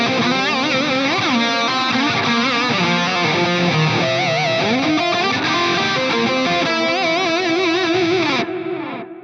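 Distorted lead electric guitar through a Fractal AX8 Uberschall preset on its lead scene, playing a continuous melodic line with heavy gain, bends and ambient effects, loud and sustained before easing off at the end.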